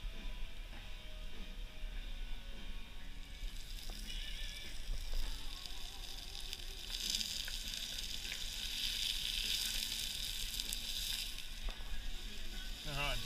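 Onions, capsicum and zucchini frying in a pan ahead of a pink snapper curry, a steady dense sizzle and crackle that swells slightly midway, close and continuous, with faint talk underneath.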